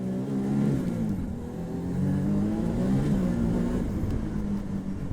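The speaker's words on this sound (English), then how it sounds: "Wow, listen to that engine." A close off-road vehicle engine, a 2024 Ford Bronco Raptor or Can-Am Maverick R, growls and revs, its pitch rising and falling in waves over a steady rumbling drone, with no voices.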